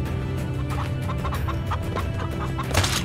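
Repeated clucking from a chicken in the video game Shotgun Farmers, a series of short rhythmic clucks over steady game background sound, with a louder burst near the end.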